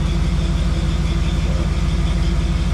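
A Jeep CJ7 engine with a throttle body injection swap idling, a loud close steady low rumble with an even rapid pulse throughout.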